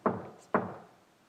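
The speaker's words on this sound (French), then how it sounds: "Attends, quelqu'un frappe à la porte." Two distinct knocks on a door, evenly spaced about half a second apart, each a close, solid wooden thud with a short decay into quiet.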